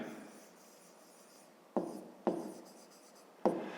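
A pen writes on paper while a fifth-grade math problem is worked out: quiet scratchy strokes, then three sharper taps or strokes at irregular intervals, close and isolated, with no talk.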